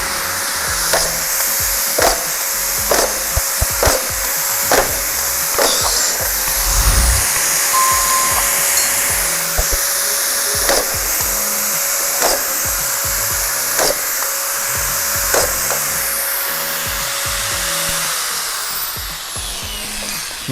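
A screw gun drives screws through a single layer of drywall into 0.7 mm metal profile, a steady high motor whine broken by repeated sharp bursts as each screw bites, about a dozen spaced over the run, close and loud.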